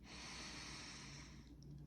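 A long, steady breath drawn in through the nose, a close, airy hiss lasting about a second and a half before it stops.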